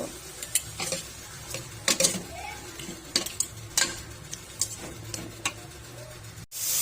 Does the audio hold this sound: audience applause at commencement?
no